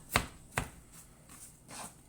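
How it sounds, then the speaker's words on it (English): Two sharp knife chops on a board rough-cutting herbs for chimichurri, followed by a couple of softer scraping strokes, close and clear with no voices. "we're just going to start rough chopping these"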